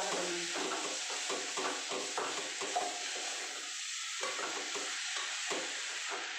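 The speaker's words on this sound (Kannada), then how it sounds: "ಈ ಸೌತಿಕ ಹಾಕಿ ಎಲ್ಲ ಮಿಕ್ಸ್ ಮಾಡ್ಕೊಳ್ಳೋಣ" Cucumber being stirred into a curry frying in a pan for a village-style cucumber palya: a steady sizzle runs throughout, broken by repeated scraping stir strokes close by, with no one talking.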